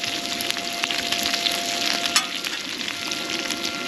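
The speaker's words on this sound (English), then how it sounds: "As soon as this bacon ripens up, we'll have" Bacon sizzles and crackles on a Skottle griddle outdoors, a dense steady hiss with scattered sharp pops and spatters, close and fairly loud, with no talking.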